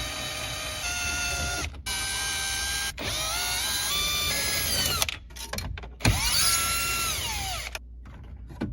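A power drill whines in several bursts as it backs out 7mm screws holding the radio and display in a 2010-2014 Ford Mustang, its pitch rising and falling with short pauses and mechanical clicks between runs.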